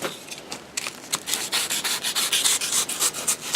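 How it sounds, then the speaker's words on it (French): A utility knife slices partway through a paper bag of lime while hemp-lime render is being prepared, making a run of close, rapid rasping strokes that grow steadier and louder toward the end, with no talking. "Avec un cutter, je vais couper et je m'arrête à la moitié."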